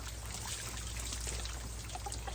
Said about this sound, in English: you can turn that over and drain a lot of that water out